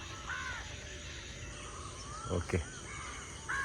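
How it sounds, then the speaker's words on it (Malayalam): Crows caw in the open countryside in the morning, a few distant calls rising over steady outdoor background hiss, with a brief knock and a short spoken word partway through. "രാവിലെ തന്നെ കാക്കകളും കിളികളും ഒക്കെ കരച്ചിലും ബഹളമൊക്കെയാണ്."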